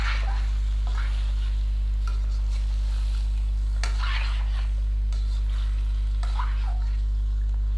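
Mutton being stirred with tomatoes and green chillies in a pan, soft scraping spoon strokes and faint sizzling over a steady low kitchen hum, close and fairly quiet, with no talk.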